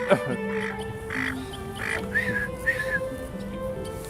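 A bird on an ornamental lake in botanical gardens gives a series of short honking, quacking calls with a steady tonal hum behind, fairly close and moderately loud.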